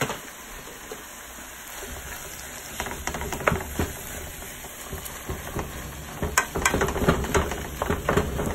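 Italian sausage without casings and ground beef drop into a hot pot for chili, sizzling and spattering with scattered thuds and scraping bursts that grow louder toward the end.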